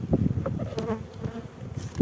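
Honeybees buzz steadily around an opened hive nucleus, a close and fairly loud droning swarm with shifting pitch and no clear voices.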